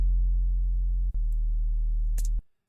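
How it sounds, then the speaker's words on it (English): A synthesized sub bass holds a deep, pure sine tone following a bass progression, with a brief cut near the middle and a small click before it stops abruptly near the end. "So now we have a solid sub which is following the bass progression."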